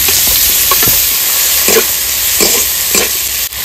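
Black cumin seeds tempering in hot oil with chopped onion and tomato for a hilsa fish curry, a close, continuous sizzle broken by a few short scraping stirs of a spatula in the pan.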